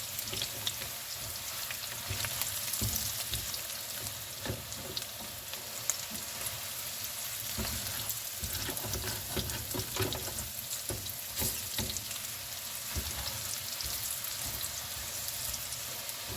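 Red potatoes and onions fry in a pan under constant circular stirring, a dense crackling sizzle with frequent scraping and clatter of the utensil, steady and near, with no talking.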